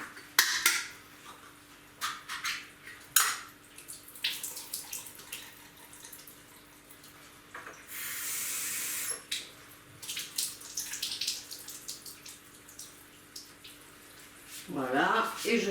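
Salted mushrooms rinsed under running tap water in a kitchen sink, with intermittent splashing and a short burst of steady flow, while someone talks over it.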